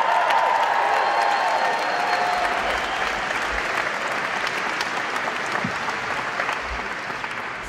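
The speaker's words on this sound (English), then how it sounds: "One more rousing round of applause for this absolutely great band and for our soloists." Rousing applause for a band and its soloists at a university baccalaureate service, a large crowd clapping in a sustained, even roar that slowly tapers toward the end.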